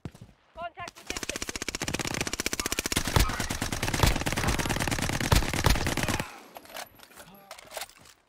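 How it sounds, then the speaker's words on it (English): Call of Duty: Warzone gunfire during a house fight, sustained loud automatic bursts firing for about five seconds with a few heavier shots mixed in, then cutting off, with players talking over it. "I was the one shooting him through the fucking house"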